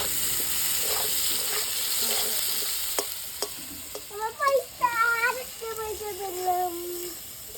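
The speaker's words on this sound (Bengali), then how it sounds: "এবার আমি পেঁয়াজ দিয়ে একটু ভেজে নেবো" Onions sizzle steadily in a hot pan with occasional spatula clicks, while a high-pitched voice chimes in over the frying toward the end.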